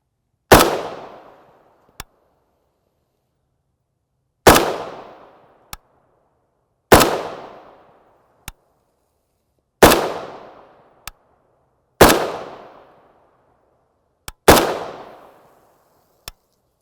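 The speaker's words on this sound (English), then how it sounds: "always be careful when shooting tracers" Six single rifle shots from a Czech SV43 firing 7.62x39mm 115-grain FMJ tracer rounds outdoors, each a loud sharp crack with a decaying echo. Irregular gaps of two to three seconds separate them, and a faint click follows most shots.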